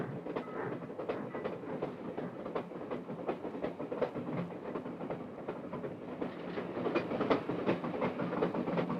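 Train carriage rattling along the rails, a steady dense rumble with repeated clickety-clack impacts, continuous and moderately loud throughout.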